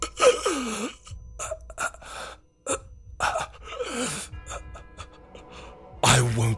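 A man kneels on the ground gasping for air after a fight. Repeated ragged gasps and strained breaths come in close bursts with short pauses between them, ending in one harsher, louder gasp.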